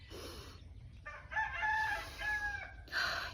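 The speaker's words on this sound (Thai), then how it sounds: "ไก่ก็ขัน" A rooster crows twice in a row on a small Thai farm where apples are grown. The crows are clear and fairly loud over a quiet outdoor background.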